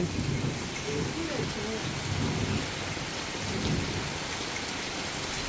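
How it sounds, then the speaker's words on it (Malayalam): Heavy rain pours down around a house in Kottayam, with thunder rumbling through a dense, loud, continuous roar of falling water; faint voices can be heard beneath it. "എങ്ങനെയുണ്ട് മഴ അടിപൊളിയല്ലേ"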